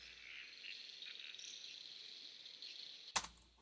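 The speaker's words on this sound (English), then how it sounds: "And of course we have our crickets and stuff coming back." Crickets chirp in a dense, continuous high-pitched shimmer within a quiet, sparse music track, faint and steady, ending with a sudden sharp click.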